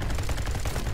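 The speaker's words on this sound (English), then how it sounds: "Okay, double kill with the shoddy." Shotgun fire in the shooter game Riotfall, a dense, close burst of blasts and impacts packed into a moment of loud game action.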